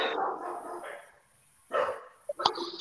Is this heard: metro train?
no